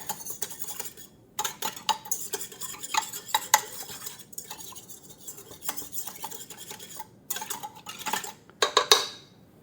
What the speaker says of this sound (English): I like to whisk it a little with the whisk.